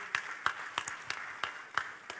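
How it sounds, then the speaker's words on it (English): An audience at a business forum applauds to welcome a moderator onto the stage. Sharp clap bursts recur at a steady rhythm over a continuous wash of applause, moderately loud, with no talking. "Please keep the applause coming until he comes on stage"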